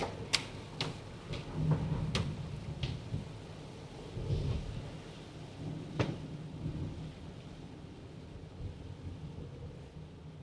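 Rain and thunder heard from inside a parked car, with sharp cracks of thunder or heavy drops striking the roof over a steady low rumble and rain wash; no speech.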